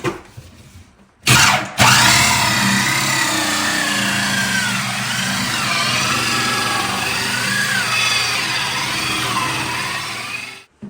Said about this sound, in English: we're going to go ahead and drill a 4-inch hole right centered on that